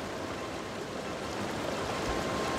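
River flowing through the Verdon Gorges, a steady rushing of water, soft and continuous with no voices.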